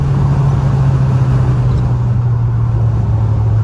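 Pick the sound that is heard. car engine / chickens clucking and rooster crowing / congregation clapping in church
car engine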